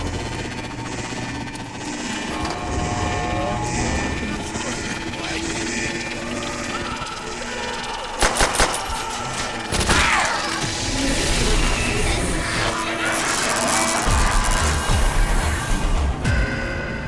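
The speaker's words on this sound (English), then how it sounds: "when we turn on the power, listen to what happens. We hear some sort of demonic voice among other sounds." Power switched on in the Verruckt zombies map of Black Ops 2: dense game sound with clanking machinery, sudden crashing bursts and a rising eerie sweep, loud throughout.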